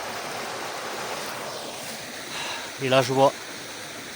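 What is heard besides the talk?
small stream flowing near castle ruins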